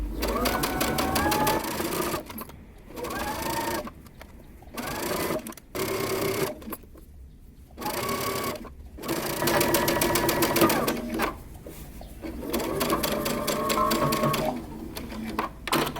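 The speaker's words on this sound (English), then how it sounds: "Now we're going to sew all the way around our neckband using 3/8 of an inch seam allowance." A sewing machine stitches a dress neckband in several quick bursts separated by short pauses, its rapid mechanical whir close and clear.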